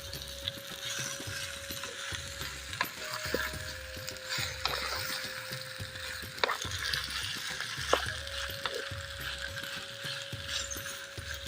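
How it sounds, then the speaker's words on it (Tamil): Bitter gourd pieces sautéing in oil in a pan, with a steady low sizzle under repeated scraping and clicking stirs, close and moderately loud throughout. "காயில் எண்ணெயில் நல்லா வணக்கிக்கலாம் காயை."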